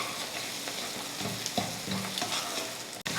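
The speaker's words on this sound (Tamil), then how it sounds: "முட்டையை கலந்ததுக்கப்புறம் உப்பு, கொஞ்சம் மிளகுத்தூள் சேர்த்துட்டு அதை நல்லா பொரிச்சு எடுத்துடலாம்" Beaten egg seasoned with salt and a little pepper sizzles and crackles steadily in a hot pan while a utensil scrapes and stirs it in irregular strokes, with no one speaking.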